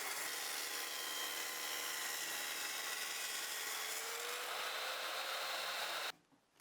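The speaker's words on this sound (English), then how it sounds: "I used a table saw to remove that so that I could have a nice straight edge for the glue up." A table saw rips the chamfered edge off an oak 1x4 board, producing a loud, steady high whine of blade cutting wood for about six seconds before stopping abruptly into near silence.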